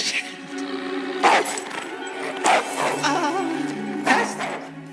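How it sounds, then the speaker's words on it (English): A dog barks in loud, close bursts, with sharp barks repeating at about one-second intervals and whimpery yips between them. A voice can be heard faintly underneath. "Well, then, whose dog is that?"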